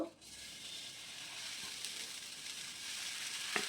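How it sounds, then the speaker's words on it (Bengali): Dosa batter for onion dosa spreads across a hot pan with a steady, soft sizzle that stays even and fairly quiet throughout, without speech. "তো এবার এই ধোসার ব্যাটারটা আমি প্যানে"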